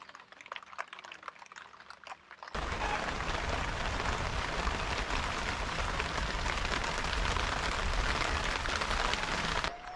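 Light ambient patter with faint ticks gives way abruptly to a loud, steady downpour of rain drumming on a surface, continuing evenly to the end.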